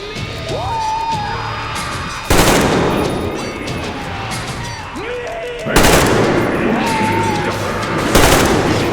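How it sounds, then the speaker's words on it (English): Gunfire from the video game Metro Exodus, with loud bursts of automatic shots crackling in close, dense volleys that break in repeatedly over a continuous battle din and game sounds. "Taking fire from somewhere, I don't know where."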